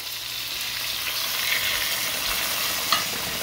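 Beef broth with stirring and frying sizzle in a pot, a steady close bubbling hiss that holds level throughout, with a small clink near the end.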